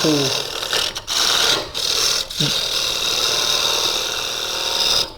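Carbide tool cutting a wood bangle blank on a lathe, a steady loud whirring hum with brief dips where the cut pauses, continuous for several seconds at close range.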